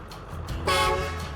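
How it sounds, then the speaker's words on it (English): A pickup's truck horns blast once, loud and close, a brassy, sustained blare over the steady rumble of the idling engine. "When I honk them, the drivers get out of my way."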